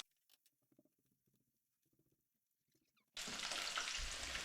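Battered bluegill and crappie frying in oil: a few faint taps and rustles give way to a sudden, loud, dense crackling sizzle that holds steady to the end.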